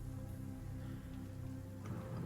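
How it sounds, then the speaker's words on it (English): Gentle rain falls steadily at a faint, distant level, with soft patter and no other sounds. "The clouds are in the sky, and it is gently raining."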